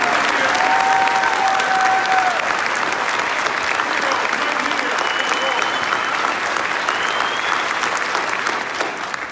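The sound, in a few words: audience applause at police medal ceremony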